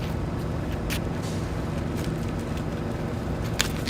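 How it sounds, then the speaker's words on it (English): A steady, low hum of traffic fills a Brooklyn street late at night, a continuous broadband rumble with faint passing ticks and no nearby voices. "You can hear the hum of the traffic"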